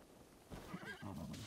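A horse whinnies in Zelda: Breath of the Wild, a quiet, brief, wavering neigh rising out of near silence, followed by soft low in-game sounds.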